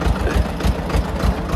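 A farm tractor's engine runs steadily nearby on a drumstick (moringa) farm, a deep throbbing idle with rhythmic low pulses and no talk over it.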